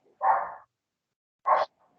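Two separate barks from a dog, a longer one followed by a short one after a pause, fairly quiet and set against silence.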